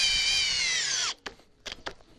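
A Bosch GSR 18V-50 cordless drill in drill mode drives a screw into wood with a steady, loud high-pitched whir lasting about a second. It cuts off abruptly, followed by a few faint clicks and taps.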